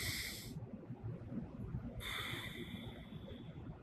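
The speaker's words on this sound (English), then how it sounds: "A couple deep breaths in and out." Deep breathing during a hip mobility stretch, faint and close: a breath at the start, a pause, then a longer hissing breath, with low background rumble and no talk.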